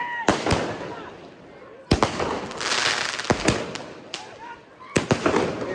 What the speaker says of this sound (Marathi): आणि बघू शकता फटाके